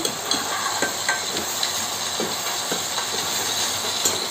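Green chilli pieces frying in hot oil in a pan for a spicy dish; loud continuous hissing sizzle with faint intermittent stirring clicks, no speech.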